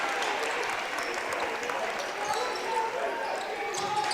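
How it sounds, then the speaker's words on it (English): At a high school boys' basketball game between the Pierre T.F. Riggs Governors and the Sioux Falls Roosevelt Rough Riders, the gym crowd cheers and claps after a made free throw. The noise is a dense, steady wash. "Loud crowd here on a Saturday afternoon"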